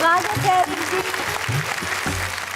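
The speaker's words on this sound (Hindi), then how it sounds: "जरा जोरदार तालियां बजाएं" Applause at a comedy poetry show, a crowd clapping steadily beneath a host's amplified voice, with tonal snatches of voice and music at the start.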